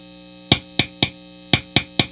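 Guitar pick tapping on the slug coil of a P.A.F. humbucker pickup, six sharp resonant clicks in two groups of three, each ringing briefly with a metallic buzz.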